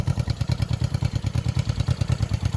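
A 1975 Honda CB360T motorcycle idles close by, its engine putting out a steady, even, rapid thumping throb with a light mechanical clatter, and no talking.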